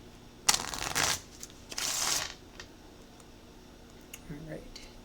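A deck of oracle cards is shuffled by hand in two crisp riffling bursts close to the microphone, then a few soft taps and light handling noises follow in a quiet room.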